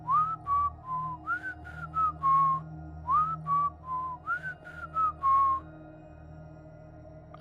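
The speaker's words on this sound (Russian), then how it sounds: "в 3:03 мы услышали насвистывание" Eerie melodic whistling from a horror story, a repeating tune of rising and falling notes in short phrases over a low steady hum, fairly close and alone, fading out near the end.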